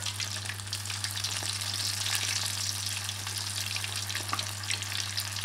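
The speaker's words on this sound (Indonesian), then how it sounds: "Nah, kita goreng cekernya." Chicken feet fry in a pan of oil, crackling and sizzling steadily, a dense constant spatter with a low hum beneath.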